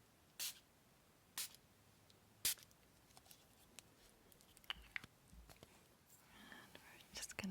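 A small bottle of flower essence, gem elixirs and moon water is spritzed a few times in quiet ASMR, short soft hissing sprays spaced apart, followed by faint whispering and gentle handling sounds.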